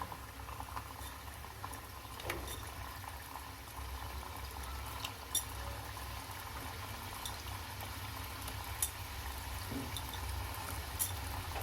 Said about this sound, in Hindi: मीडियम फ्लेम पर हमको इसको तलना है